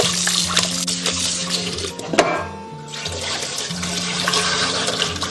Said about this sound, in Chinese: 现在我们来腌制这个里脊肉串，用流水多淘洗几遍